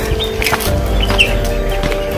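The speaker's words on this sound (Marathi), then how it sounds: "वेगवेगळ्या पक्ष्यांचा छानसा असा आवाज येतो इथं." Birds call from dense woodland on the trail up Hadsar fort, with a few short chirps and clucking notes scattered over a low, steady outdoor background, fairly close.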